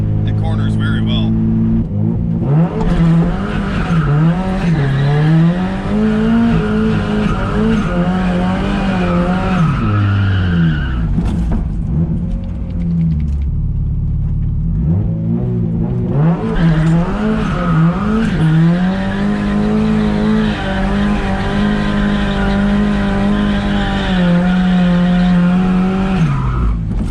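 A turbocharged Mazda Miata running 10 psi of boost corners hard, its engine droning loudly with shifting pitch while the tires squeal and scrub through the turns, with a brief lull midway before the engine pulls again.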